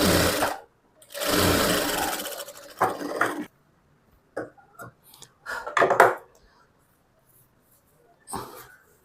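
A sewing machine stitches fabric for a frock in short bursts: one longer loud run, then brief quieter spurts separated by pauses.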